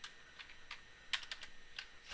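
Someone types on a computer keyboard while configuring VLANs on Cisco switches in a CCNA lab, sparse quiet key clicks in short irregular bursts with pauses between.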